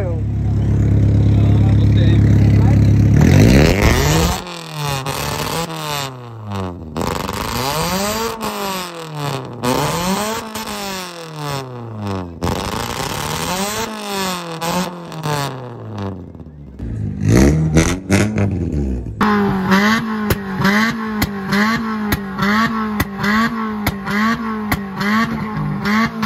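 Repeated hard revs from a car at an auto show, each engine note climbing and dropping, are broken up by crackling exhaust pops and bangs. A louder idle then settles in near the end.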